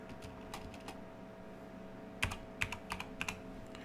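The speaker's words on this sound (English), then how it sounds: "I'm going to type in Fallout 4." Keystrokes on a computer keyboard, a few scattered taps early on, then a short burst of sharper clicks, close and fairly quiet over a low steady hum, with no talking.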